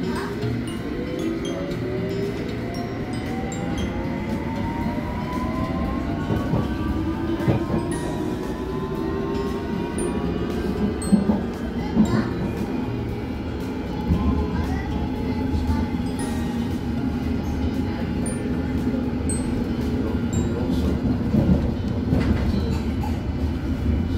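A London Underground train on the Hammersmith to Edgware Road line rumbles steadily between stations, with rising motor whine and rail clatter heard from inside the carriage.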